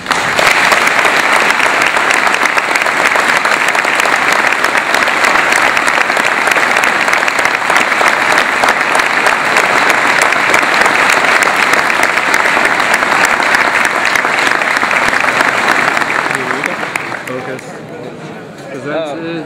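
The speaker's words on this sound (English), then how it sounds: "a round of applause to thank these gentlemen" Sustained, loud applause from a large audience at a film premiere at CFB Petawawa, dense and steady for most of the stretch before tapering off near the end.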